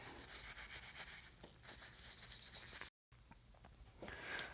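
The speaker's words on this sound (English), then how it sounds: "I'm going to just rub it with steel wool dipped in mineral spirits" A wooden backsaw handle being rubbed with steel wool dipped in mineral spirits, producing quick, close scratchy back-and-forth strokes with a short pause before a final brisker pass.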